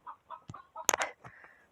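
Chickens cluck in a short, close run of calls in a home garden, a few separate clucks followed by a louder, sharper burst of squawks near the end, with no talk over them.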